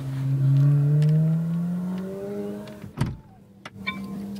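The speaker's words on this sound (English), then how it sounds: "Soft closed doors, gotta love that." The soft-close door of a 2024 McLaren 750S pulls itself shut: a smooth, rising electric whir from the closing motor, then a solid thud as the latch catches, followed by a couple of small clicks in a quiet cabin.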